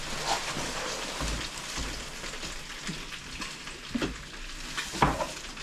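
Rice goes into a hot pot for African-style pilau with peas and chicken, giving a soft, quiet crackling sizzle with a few scattered scraping and stirring knocks, no voices.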